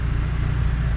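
A cheap Honda Accord with an F23A engine idles steadily, a low, even rumble close by with no talk over it.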